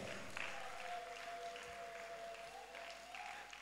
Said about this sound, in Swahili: Ngesikia makofi mazuri na vigelegele.